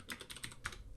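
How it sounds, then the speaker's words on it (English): Keys pressed on a computer keyboard during Linux command-line work, a handful of quick clicky strokes in a short burst, close and fairly quiet with no talking. "use the tab key on your keyboard"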